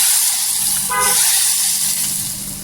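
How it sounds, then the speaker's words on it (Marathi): Hot oil poured onto a spicy onion chutney gives a loud, steady sizzling hiss throughout, with a brief tonal whine partway through. "तेल जेव्हा आपण वतू ना तेव्हा असं छान असं वाजला पाहिजे"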